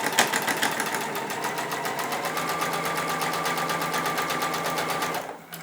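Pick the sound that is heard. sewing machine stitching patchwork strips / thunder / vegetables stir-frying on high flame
sewing machine stitching patchwork strips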